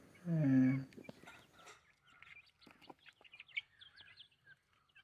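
A chicken gives a loud cluck up close, followed by quieter scattered clucks and chirps from several birds nearby.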